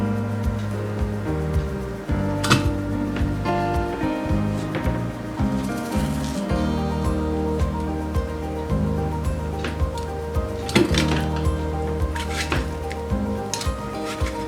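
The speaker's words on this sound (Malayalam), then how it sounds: "ഇതുപോലെ ഒരു ഫോർക്ക് വെച്ചിട്ട് ഇങ്ങനെ ഉടച്ചെടുക്കുക ചെയ്യാവുള്ളൂ." Ripe banana and mango are mashed with a fork in a bowl for avil milk, giving repeated close scraping, tapping clinks of metal on the dish in an uneven rhythm.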